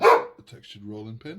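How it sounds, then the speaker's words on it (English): A single sharp dog bark heard at the start, followed by a person speaking calmly indoors. "That was my dog, apologies for that."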